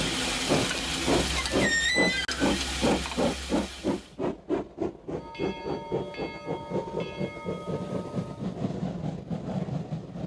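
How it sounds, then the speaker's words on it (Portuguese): Steam train at the Hospedaria dos Imigrantes railway station in São Paulo: a loud close steam whistle blows, then rhythmic chuffing and hissing exhaust beats pulse steadily as the locomotive works, with a second whistle sustained tone later. "aqui nós estamos na estação de trem da Hospedaria dos Imigrantes"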